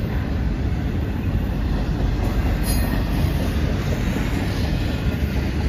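Southbound BNSF freight train, double-stack, led by locomotive 4103, rolling past close by: a loud, steady roar of wheels and rail rumble that fills the whole stretch without a break.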